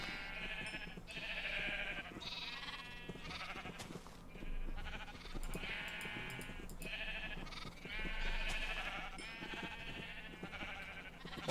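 Sheep bleating in Minecraft, a series of repeated wavering bleats from several animals in irregular bursts, fairly quiet over a low background hum with no talk.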